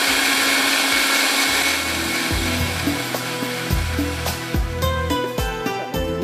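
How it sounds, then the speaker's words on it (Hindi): A blender grinds onion loudly and steadily, its motor pitch shifting and rising as the contents break down, with no voices. "हमने प्याज डाल दिया है ब्लेंडर के अंदर। इसको थोड़ा सा पीस लेते हैं"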